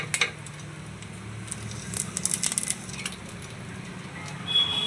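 Paneer bhaji frying in ghee in a pan gives off a soft, steady sizzle, with occasional light clinks and stirring scrapes, fairly faint and close, without talk.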